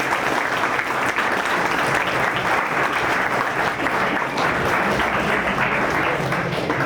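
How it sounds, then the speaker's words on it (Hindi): Steady, dense applause fills a hall at an anti-tobacco awareness event in Bhopal, with many hands clapping continuously and evenly at full volume throughout. "इनका जोरदार तालियों की गड़गड़"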